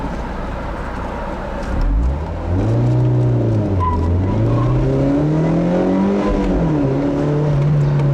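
Mazda Miata four-cylinder engine revving while driving, loud and close, pitch climbing through gears with rising sweeps, a brief dip at each shift, then holding a steady drone near the end; no talking.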